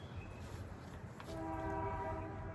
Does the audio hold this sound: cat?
no